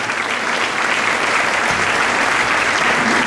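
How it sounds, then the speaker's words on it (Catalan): A hall full of people at an elderly people's celebration in Mora d'Ebre applauds steadily and warmly, a dense, even wash of clapping that fills the whole stretch without a pause. "Bé, un aplaudiment, gràcies."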